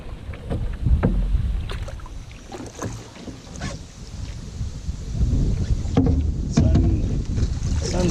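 Wind buffets the microphone with low rumbling gusts while a canoe is paddled on open water, with faint splashes and brief voice sounds mixed in.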